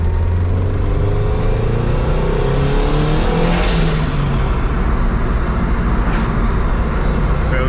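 A tuned car accelerates hard in second gear, the engine note climbing steadily and loud from inside the cabin, with harmonic tones sweeping upward over continuous road and wind noise.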